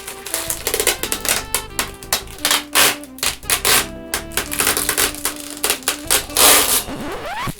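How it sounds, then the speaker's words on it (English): Angle grinder cutting off rivets from a riveted-together build, with a rapid series of sharp metallic bursts and grinding rasps, loud and close, ending in a rising whine as the tool spins down. "getting out the angle grinder and taking off all the rivets will just be a lot of fun"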